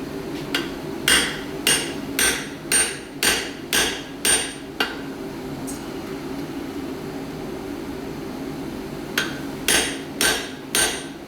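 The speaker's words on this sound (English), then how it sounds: "Putting a few more hammer blows in each time, hopefully getting a little bit more penetration." Heavy hammer blows ring out on a punch driven into hot metal at a forge, a steady series of about ten, pause, then four more strikes, loud and close.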